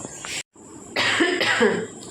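Two bursts of coughing, close and fairly loud, separated by a short silence, with a rougher, throaty cough following.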